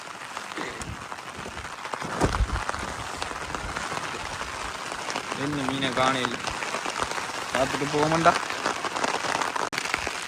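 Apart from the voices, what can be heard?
heavy rain with wind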